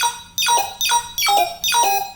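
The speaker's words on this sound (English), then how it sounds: "and then with the trap synthesizer" A trap-style synthesizer drop made in FL Studio repeats four bright, descending glitchy stabs in an even rhythm, loud and alone with no voices.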